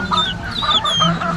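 Young chicks peep and chirp in high, rising calls inside a larger coop, several overlapping cheeps close by with no talk.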